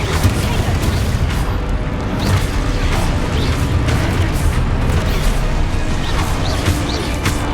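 Spell-casting explosions during Hogwarts Legacy combat make a dense, loud, continuous barrage of crackling bursts and booms, with game effects layered throughout.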